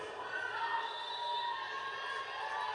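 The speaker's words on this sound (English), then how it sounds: "What a crowd tonight" A packed arena crowd at a college volleyball match, a dense continuous roar of cheering and shouting that carries on throughout.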